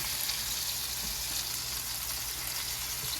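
A tomato and egg scramble, sweetened with a little sugar, sizzles over high heat in a hot pan, giving a constant, soft frying hiss with no talking.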